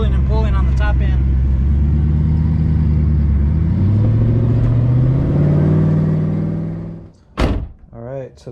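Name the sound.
turbocharged taxi car engine accelerating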